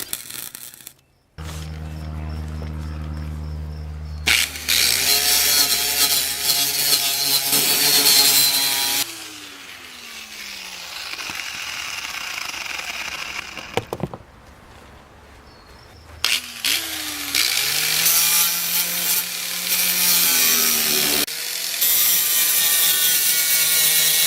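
A wire feed welder runs at full wire speed on an automotive restoration job, giving two long, loud bursts of harsh crackling buzz separated by a brief quieter pause, with no talking.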